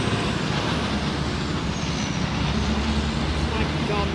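A truck rolls past on a city street, its broad road noise and engine rumble filling the scene, with a hiss of air brakes and traffic around it, moderately distant and steady.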